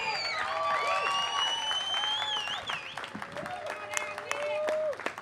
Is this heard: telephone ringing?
no